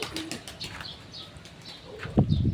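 Racing pigeons arriving at a loft after a long flight, soft scattered coos and chirps followed by a brief burst of wing flapping near the end, fairly faint and close.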